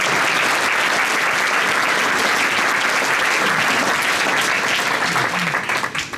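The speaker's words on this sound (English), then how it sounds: "what about another round of applause for the band being brave enough to play swing music in" Audience applause for a youth jazz orchestra at a Christmas concert, dense steady clapping from a full room that tapers off toward the end.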